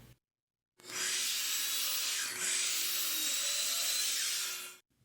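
A saw rips through a wood fence picket to cut trim, one continuous bright hissing cut of about four seconds, close and even, starting and stopping abruptly.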